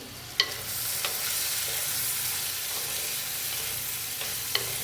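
A toor dal stir-fry with chicken masala powder is stirred in a pan, making a soft, steady frying hiss with a few faint spoon taps and scrapes.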